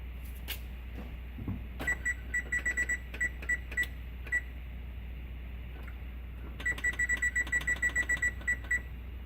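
An oven's electronic timer is set for 14 minutes while biscuits bake. Quick bursts of sharp beeps come in two separate clusters over a quiet kitchen hum, with no talking.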